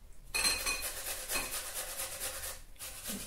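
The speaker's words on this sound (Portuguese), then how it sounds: "Então, cebola assim, ralada, eu ralo assim, ó." An onion is grated by hand on a kitchen grater, giving quiet, rhythmic rasping strokes. The sound is close but faint, with no talking.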